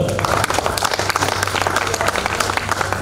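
An audience applauds as a guest is called up onto a stage at a ceremony. The clapping is loud, dense and sustained, with a steady crowd roar and a low hum running underneath.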